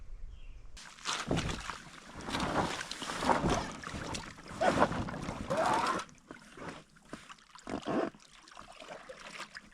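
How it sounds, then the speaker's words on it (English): A packraft paddled across a calm lake at sunset makes repeated swishing paddle strokes and water splashes close by, with some wind buffeting, before it settles into quieter drips and trickles. "I've come back out onto the lake for a little sunset paddle."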